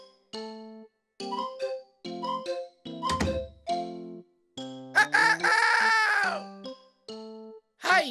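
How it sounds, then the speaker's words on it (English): A rooster crows in a children's animal story for learning English, with clucks and short calls before a loud, drawn-out cock-a-doodle-doo in the middle. There is no talk. "That sound is definitely a rooster."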